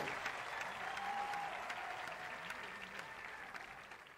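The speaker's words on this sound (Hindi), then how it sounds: "अरे भाई जोरदार तालियां योगी जी के लिए और उत्तर प्रदेश के लिए हो जाए" Sustained, even applause from a large audience at a government sports event launch, dense clapping that fades slightly toward the end with no speech on top.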